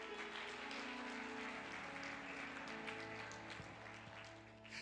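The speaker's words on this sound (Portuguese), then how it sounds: "Então dá uma salva de palmas ao nosso Deus." A congregation at an evening family church service claps continuously, a faint, dense patter of applause that holds steady before easing slightly toward the end.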